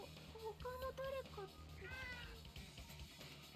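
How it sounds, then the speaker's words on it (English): A cat meows insistently in several drawn-out calls while a person talks over it, the cries close and fairly loud against a game-background hum. "It's cat screaming at me time."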